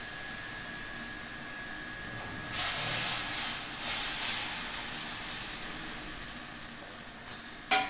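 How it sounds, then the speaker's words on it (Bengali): Dal splashes into a hot tempering in the pan, setting off a loud, sudden hiss that bursts, dips, surges again, then slowly fades to a quieter sizzle, with a short clatter at the end. "ফোড়নটা হয়ে গেছে, ডালটা সম্বার দিয়ে দিচ্ছি"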